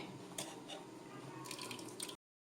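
Melted jaggery syrup strained and poured into a pan makes a soft, faint liquid trickle and splash, with a few brighter spattering bursts toward the end before it cuts off.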